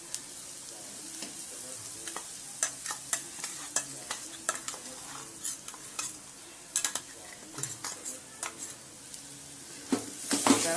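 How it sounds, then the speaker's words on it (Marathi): Ground green chillies sautéing in hot oil in a pan for village-style urad dal. A soft, steady sizzle runs under repeated scraping and clinking of a spoon against the pan, growing busier toward the end. "मिरची चांगली परतून घेतली."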